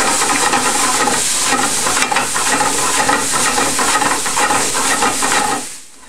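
Brussels sprouts browning with minced garlic in a hot pan give a loud, dense, continuous sizzle and hiss with faint stirring clicks, dying away abruptly at the end.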